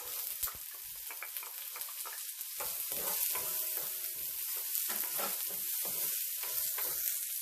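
Chopped onions sauté in a hot pan for Filipino ground-beef menudo, giving a steady close sizzle broken by scraping stirs and small clicks of a utensil, with no talk.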